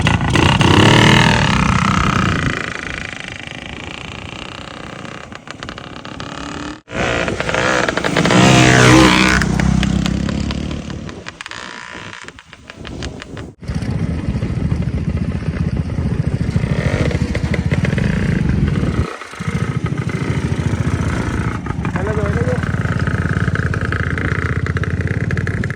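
Two motorcycles, a Rajdoot and a Honda Splendor, racing along a rough village road, engines loud and close with repeated revving and brief drops, a short near-silent gap midway.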